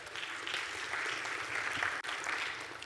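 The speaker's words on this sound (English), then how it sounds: "Let's clap our hands for the Springboks." An audience at a speech applauds the Springboks rugby team in a dense, continuous wash of many hands clapping, fairly soft and a little distant, with only a brief dip in the middle.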